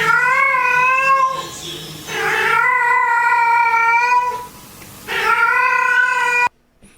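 A cat gives a mating call in three long, loud, drawn-out yowls. Each wavers in pitch and has short pauses between, and the last one cuts off abruptly.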